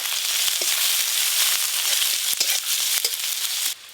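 Chopped onion sizzles in oil left over from frying fish, in a pan set on a village clay stove: a loud, steady hiss of frying that runs throughout, with small pops and crackles, and no voices.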